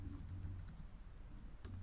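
Typing on a computer keyboard while entering a command into a Metasploit console on a Kali Linux machine, a steady run of close, soft key clicks with a few sharper taps near the end.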